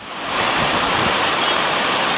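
Floodwater from rivers overflowing after monsoon rains in northern India, rushing as a loud, steady broadband roar that swells in over the first moment and then holds, with no voices.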